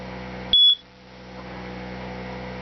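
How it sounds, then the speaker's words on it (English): A First Alert smoke alarm gives one short, sharp, loud beep right after its battery is inserted, then falls back to a quiet background hum. "Got my alarms. First alert."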